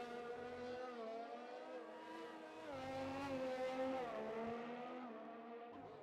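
Ferrari race car engine in a racing video game at practice in Sochi, a sustained high-pitched whine that rises and falls as the car shifts gears and accelerates through a hot lap, steady and close.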